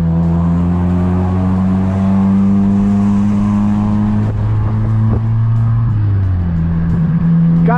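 A small Fiat Uno's engine revs loud and close at a fuel-station car meet, a steady droning roar that climbs and shifts pitch through accelerations, with a brief gear change near the end.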